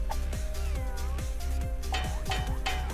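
Sushi Cat meows in the video game Epic Battle Fantasy 5, cartoonish cat calls over busy game music and battle effects, with no talk.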